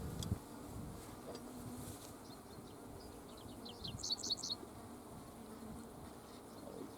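Bees buzz around an open beehive during a frame inspection, a low steady hum with a few high bird chirps briefly standing out midway.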